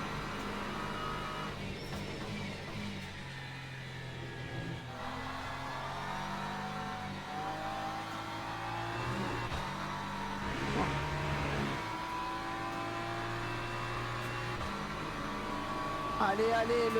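LMP2 prototype race cars streaming past in the Le Mans Ultimate racing game, a steady layered engine drone that swells as the cars close in and sweep by.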